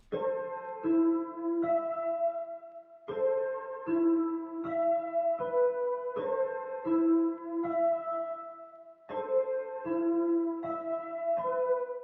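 Layered synth chords strike in repeating patterns, each chord sounding full and bright before decaying, with brief gaps between phrases.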